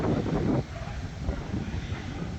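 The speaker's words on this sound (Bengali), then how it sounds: "খুব শিগগিরই ঝড় উঠবে আর সুন্দর ঠান্ডা হাওয়া দিচ্ছে।" Steady cool wind before a storm rumbles and buffets the microphone, louder in the first half-second and then settling into a continuous low roar.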